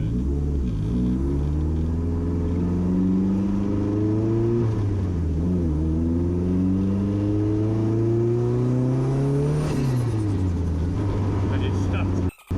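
A twin-turbo Ford Fiesta pulls hard through the gears, its engine note climbing in repeated rising sweeps, with a faint high whistle over the loud, steady roar until it cuts off abruptly at the end.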